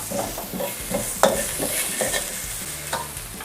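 Garlic, white pepper and coriander root sizzle steadily in hot oil while a utensil scrapes and clicks against a wok in an irregular stirring rhythm.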